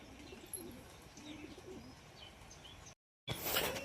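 Pigeons coo softly among partridges and sparrows in a rural yard, with low repeated coos and scattered chirps at a distance, faint and steady, broken by a brief dropout before a burst of louder noise.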